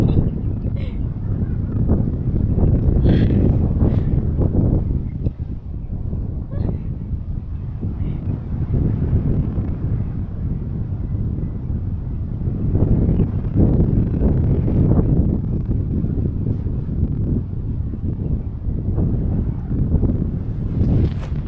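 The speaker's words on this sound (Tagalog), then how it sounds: "Lakas ng hangin." Strong wind on Mt Anahawon buffets the microphone in loud, rumbling gusts for the whole stretch, with voices talking faintly underneath.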